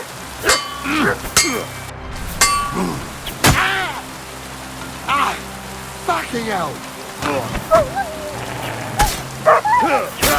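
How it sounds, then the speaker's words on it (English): A dog barks repeatedly in short yips amid steady rain in Kingdom Come: Deliverance II, the barks scattered and mid-distance over the rain's constant hiss. "God, where is that dog?"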